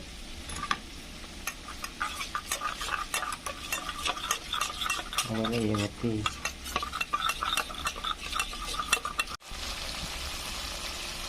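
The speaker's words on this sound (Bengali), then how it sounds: "এখানে আমি সর্ষে বাটা ও অল্প একটু গোলমরিচ গুঁড়ো নিয়ে নিয়েছি, তার সাথে 2 চামচ সর্ষের তেল দিয়ে ভালোভাবে ফেটিয়ে নেব।" Mustard paste, ground black pepper and mustard oil being whisked in a bowl: rapid, continuous scraping and tapping of a spoon against the bowl, close and busy, with a brief pause near the end.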